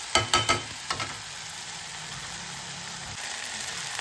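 Ginger and garlic sautéing in a pan, a steady close sizzle with a few quick scraping stirs near the start and a low hum running underneath.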